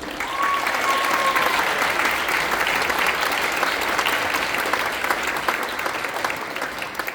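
Sustained applause from the audience at a middle school spring band concert, a steady wash of many hands clapping that holds evenly throughout, with a brief whistle near the start.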